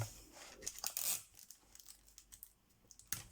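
Tape tears off a roll in quick, close rasping pulls with a crinkly edge, followed by a few faint scraping rustles in near silence.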